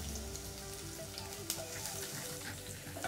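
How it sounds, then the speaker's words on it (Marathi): Chopped onion tossed into warm oil with raw spices, a dense steady sizzle and crackle close up, with occasional stirring scrapes, no voices. "लगेचच त्यामध्ये एक मोठा कापून घेतलेला कांदा ॲड करते आहे"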